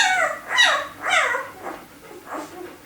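A puppy gives several short yips and whimpering barks at about half-second intervals, close and fairly loud, with quieter whines between them.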